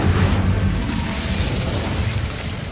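An Incendio fire spell cast in Hogwarts Legacy, heard as a loud, dense whoosh and roar of flame that holds steady and fades slightly over a few seconds.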